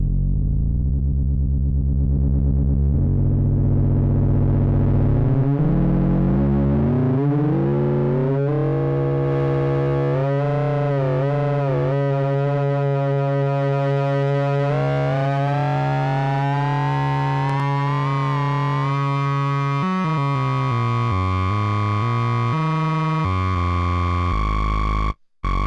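A Behringer Neutron analogue synthesizer plays a buzzy, harmonically rich tone whose pitch climbs steadily with fast LFO wobble, turns into a siren-like warble and ends in an abrupt cutoff.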